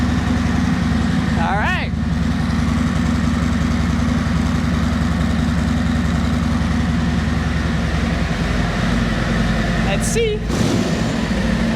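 A Harley-Davidson motorcycle with stock exhaust idles steadily, a loud, continuous low rumble throughout, with someone speaking briefly over it.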